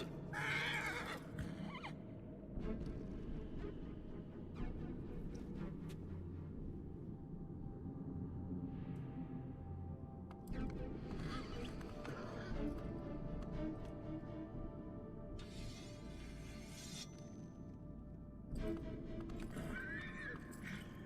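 Horse neighs and hoof clip-clops in the video game Shadow of the Colossus, a whinny near the start and another later, over steady game ambience and music with a voice talking at times.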